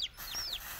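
Young Aseel breed chicks give a couple of short, high, faint chirping peeps close by on a farm, brief and isolated against quiet background noise.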